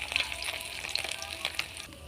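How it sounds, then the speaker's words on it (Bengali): Fish pieces frying in oil, a quiet, steady sizzle with a few sharper crackles over about two seconds. "বেশি মাছ বলে আমি একবারে ভাজ ভাজিনি দুবার ভাজবো"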